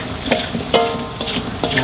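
Frying spicy mujair fish sizzles steadily in a pan while a utensil scrapes and stirs in repeated strokes, loud and close.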